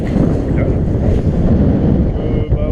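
Steady wind buffeting and rushing sea swell slapping around a boat in building backwash, a constant loud wash with no clear pauses.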